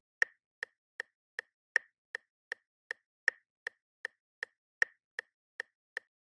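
Ghost footsteps from the Phasmophobia video game, a Moroi walking at roughly 160 bpm: a steady run of sharp, hollow knocking steps, about sixteen in quick regular succession, clear and isolated against silence.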